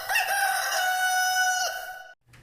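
A rooster lets out one long, loud, close crow with a strong tonal ring, holding for about two seconds before it cuts off abruptly into near silence.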